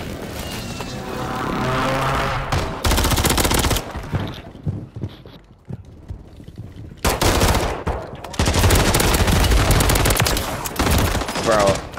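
Heavy automatic gunfire in Call of Duty: Modern Warfare III on Rebirth Island, with loud rapid bursts and fusillades around a quieter gap in the middle, then sustained firing again near the end.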